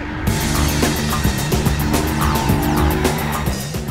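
A Maserati Quattroporte S sweeps through a corner, its engine note rising and shifting through gears with a brief tyre squeal, loud and close with no talk.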